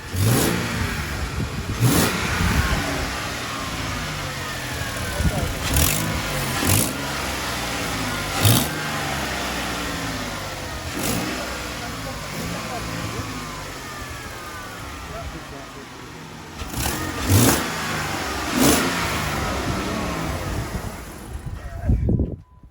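A project car's engine idles and is revved repeatedly, with several sharp rises in pitch spread across the stretch, while people talk over it.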